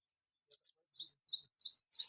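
Small birds resting in the shade chirp alone in a quiet spot, two soft brief peeps followed by four clear, evenly spaced tweets close by.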